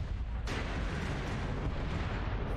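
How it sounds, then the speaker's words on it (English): A missile explosion in a mech video game featuring a Mad Cat mech: a sudden loud, broad blast surges in, then a dense, sustained rumble of combat noise carries on without talk. "Warning, incoming missile."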